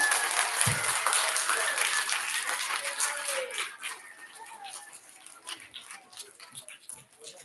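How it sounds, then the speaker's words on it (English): A crowd at an elementary school award ceremony applauds steadily, then the clapping thins out and fades away. "One more round of applause for our fifth grade award recipients."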